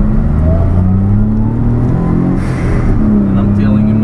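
A 1991 Daihatsu Atrai Turbo intercooler kei van accelerating from inside the cabin, the small turbo engine droning and rising in pitch through a gear change, loud and close.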